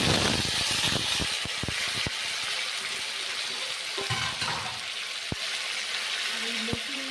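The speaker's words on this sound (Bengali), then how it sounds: "লতিটা হালকা করে আমি একটু ভেজে নেব।" Kochur loti (taro stolons) fry in hot oil in a pan with kalonji seeds, a loud, steady close-up hiss with a flurry of sharp crackles and spits at first that thin out to occasional pops.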